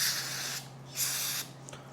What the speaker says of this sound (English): but we're still going to shoot her with some brake clean.